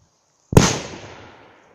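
A single sharp bang from a Megatron firecracker goes off nearby, followed by a short fading rumble and hiss.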